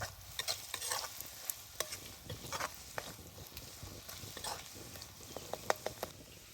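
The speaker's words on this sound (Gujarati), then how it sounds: "મસાલાને આપણે હલાવી નાખી બરોબર તેલમાં પાકવા દઈએ" Spices stirred into hot oil for a rural Gujarati garlicky brinjal oro, with soft sizzling and frying under repeated scraping stir strokes, close by, with no talking.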